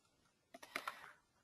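A short burst of typing on a computer keyboard, several quick key taps in an uneven cluster, close and fairly quiet, with silence before and after.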